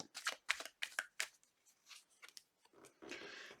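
A tarot deck is shuffled by hand in quick bursts of crisp card riffles and slaps, ending in a longer dense flutter of cards, close and clear with no talking.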